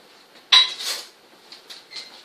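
Melted peanut butter and skim milk stirred in a bowl with a utensil, heard as a sharp clink against the dish followed by a few softer scrapes and taps, close and clear against a quiet background.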